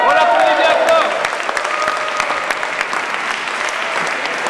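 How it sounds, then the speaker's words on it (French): Warm applause from a slam poetry crowd after the judges' scores, loud at first with a few cheers and voices mixed in, then settling into steady clapping. "On l'applaudit bien fort."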